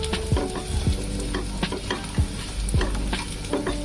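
Black cumin seeds roast in a pan over a low flame while a utensil stirs them, giving a steady dry sizzle broken by repeated scraping knocks, close and continuous with no talking.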